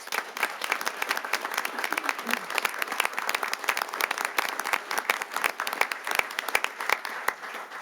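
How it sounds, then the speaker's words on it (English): People at a city council meeting give a round of applause honouring firefighters and officers, with brisk, scattered claps from a modest crowd, fairly distant and even throughout. "One more big round of applause, please."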